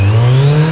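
A Kawasaki Z900 motorcycle's exhaust revs loudly and close by, a strong, smooth engine drone whose pitch climbs steadily through the short burst, with no voices.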